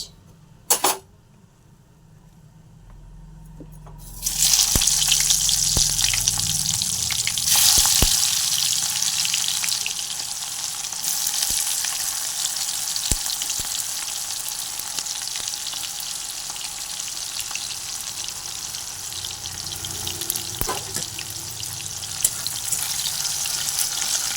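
Onions hit hot oil with bay leaves, a quiet start and then a sudden loud burst of sizzling that settles into a steady fry, with occasional clinks and taps of the spatula against the pan.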